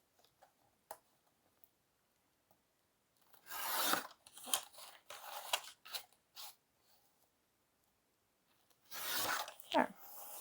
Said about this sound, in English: if there's any of the pencil marks left, I can erase those.